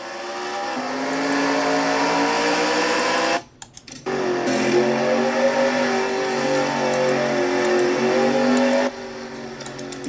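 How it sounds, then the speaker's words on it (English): The 70 race car in a Nationwide Series stock car race, its engine droning and straining at a steady pitch, cutting out briefly, then catching again and running loud and continuous before easing off near the end. "Lisa having a hard time getting the 70 car to start."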